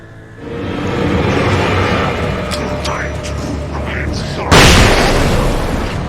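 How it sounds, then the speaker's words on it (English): A flashbang grenade bursts in the Alan Wake game as one sudden loud blast that lingers as a hiss, following several seconds of steady game ambience with a voice in it. "Well, now we got flashbangs."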